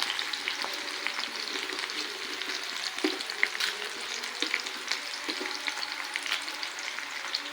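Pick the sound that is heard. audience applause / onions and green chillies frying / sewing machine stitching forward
onions and green chillies frying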